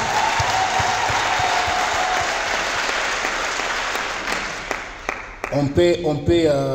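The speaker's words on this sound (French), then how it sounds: "Est-ce qu'on peut acclamer pour cette réponse?" Audience applause at a press conference: steady, dense clapping from a crowd fills the room for about five seconds, then fades as a voice begins speaking.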